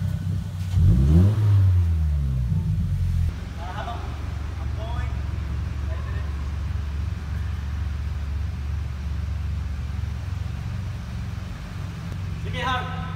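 A Subaru BRZ sports car revs its engine loudly up close, then pulls away and drives off, its engine fading into steady road rumble while a person talks nearby.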